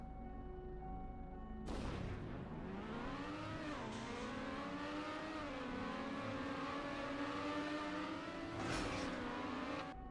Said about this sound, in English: your car makes a very loud noise despite falling like 2 blocks